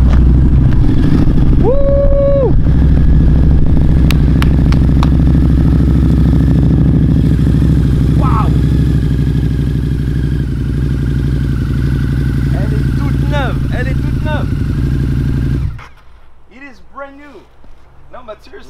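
A Harley-Davidson motorcycle engine runs loud and close with a deep steady rumble and a few revving swells, under excited shouting and talk, before cutting off near the end.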